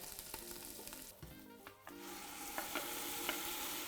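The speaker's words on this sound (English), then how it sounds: "We're going to allow these to saute, not for very long, just 30 seconds is enough time." Dried prawns sauté in hot oil in a tall pot for a Nigerian okra soup, giving a steady close sizzle with soft stirring scrapes and small crackles and no voices.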